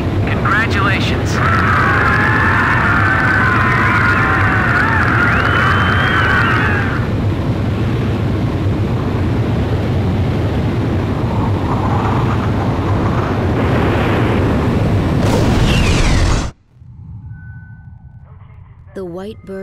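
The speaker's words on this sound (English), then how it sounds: "The SSTO is climbing smoothly." An SSTO spaceplane launches in Ace Combat 5: The Unsung War, a loud, steady rocket roar that fills the scene while radio voices talk over it, then cuts off abruptly near the end.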